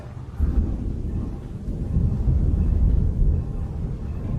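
Deep thunder rumbles through a storm, a broad low roll that swells after the first half second and stays heavy and steady, with no speech over it.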